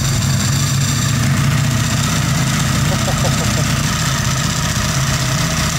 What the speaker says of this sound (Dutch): Het klinkt een beetje gek. Voor mij in ieder geval, als ik zo die motor hoor, dat is de koppeling.